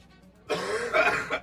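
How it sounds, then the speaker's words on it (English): A person coughs in one continuous rough burst lasting about a second, close to the microphone, after a short quiet lead-in. "Cough, cough, cough."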